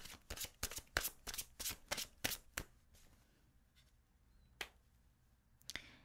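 Tarot cards are shuffled in quick, close, crisp riffling bursts, followed by a quiet pause and then a couple of single soft card snaps as cards are drawn.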